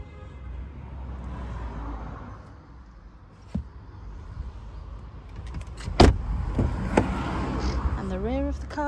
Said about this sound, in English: The rear of the car, electric windows in the rear, and 3 seats.